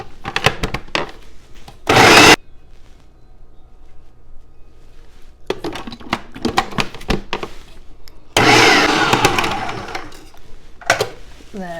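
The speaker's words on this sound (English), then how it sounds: "So I just put it all in the food processor" A food processor whirls chopped celery for a crab dip in two short, loud pulses, one brief and a longer one later, with a person talking in the gaps between them.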